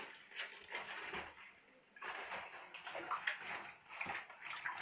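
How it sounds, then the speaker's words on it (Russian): Whole Napa cabbage heads are soaked in water, sloshing and splashing close by in uneven bursts with wet rustling of leaves. "Теперь эти кочаны я хорошенечко намочу в воде."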